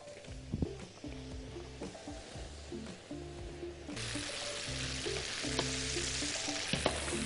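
Cubed, seasoned chicken breast drops into hot oil and fries with a steady sizzle that swells louder midway, while utensils knock and clatter in a loose rhythm close by. Nobody speaks.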